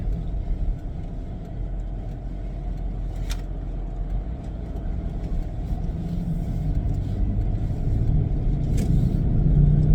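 A steady low rumble of a 2003 Pontiac Montana minivan driving on the road, heard from inside, with engine and road noise gradually growing louder and no voices.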